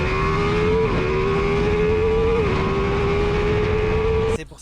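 A Ducati Multistrada V4 S motorcycle engine holds a loud, steady high rev with slight pitch dips, running close and unbroken before cutting off abruptly at the end.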